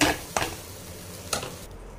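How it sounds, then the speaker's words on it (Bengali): Drained rice with spices being tipped into a pan and stirred, two brief scraping scoops standing out over a soft steady background, fairly close and quiet. "ভাতগুলো ঢেলে দিচ্ছি।"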